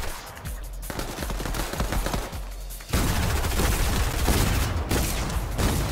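Video game gunfire shot into the ground: dense rapid bursts of shots crackle throughout, louder and more continuous in the second half, with no voices.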